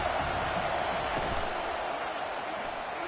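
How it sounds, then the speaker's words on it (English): Stadium crowd roaring steadily during a Penn State versus UNC college football game on a third-down defensive stand, a dense, distant wash of cheering with no clear pauses. "Decibels rising as the crowd gets behind this defense on third down."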